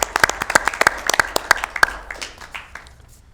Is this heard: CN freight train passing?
no